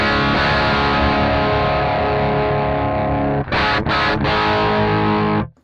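Distorted electric guitar chords played through a Mooer Radar cab simulator pedal with a 1.6 kHz high-mid boost, sustained and loud, with a couple of quick choked strums before ringing out.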